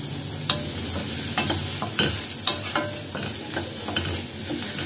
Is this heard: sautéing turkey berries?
yes